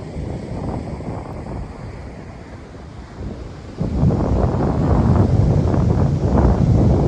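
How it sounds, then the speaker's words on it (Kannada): Ocean waves break on Surathkal beach near the lighthouse, a continuous close roar of surf buffeted by heavy wind, swelling noticeably louder partway through, with no voices. "ಅಲೆ ಇಲ್ಲಿ ಗಂಟ ಹೊಡಿತಿದೆ ನೋಡಿ"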